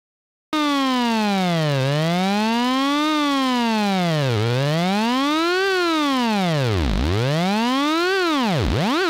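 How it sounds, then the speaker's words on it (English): A synthesizer tone swept by a slow LFO rises and falls in deep, widening arcs like a wailing siren, loud and steady, alone with no talk. "we move from the realms of a sort of subtle musical vibrato into kind of police car sirens and laser zaps"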